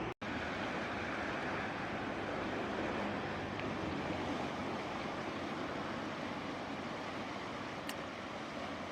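A river in Innsbruck rushes in a steady, dense broadband roar of flowing water, loud and continuous throughout with no speech.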